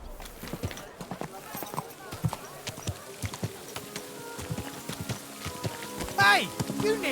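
Horse hooves clip-clop in a steady walking rhythm in Kingdom Come Deliverance 2, mixed with rain-like patter and ambient game sounds while characters talk over it.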